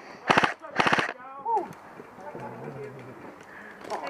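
Two short, sharp bursts of rapid airsoft gunfire ring out during an outdoor team game, followed by quieter shuffling and movement.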